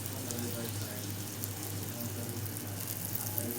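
Butter sizzling on a hot tawa under bread for a sandwich, a steady, even hiss with a low hum underneath, continuous throughout with no voices.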